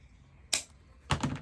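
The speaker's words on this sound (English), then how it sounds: "see how I'm cutting. It's not only cutting the end, but it's dovetailing" Scissors make two quick, crisp snips while cutting ribbon for a Dollar Tree Valentine wreath. The cuts are close and fairly quiet, with a short pause between them and no voices.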